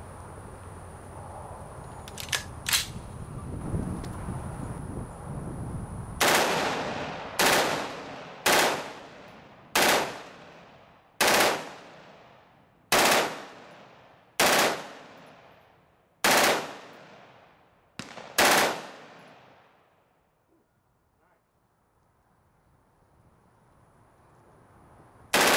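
A full-auto M16 with a POF 9 1/4 inch upper fires a 60-round Magpul PMAG D-60 drum of 55 grain ammunition. Around eleven loud, sharp bursts ring out in a steady sequence, then the gun falls silent.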